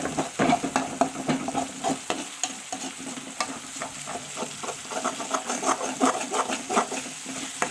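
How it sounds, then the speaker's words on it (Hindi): Pureed tomato stirred into liver (kaleji) frying in a pan: constant close sizzle broken by frequent clattering, scraping stirs of a spoon against the pan, no speech. "इसको हम अच्छे से मिक्स करेंगे ताकि ये नीचे से ना लगे"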